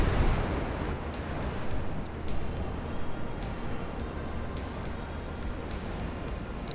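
Low, steady rumble of warship engines in the naval game Ultimate Admiral: Dreadnoughts, a continuous drone with a wash of wind- and surf-like noise over it, holding even throughout.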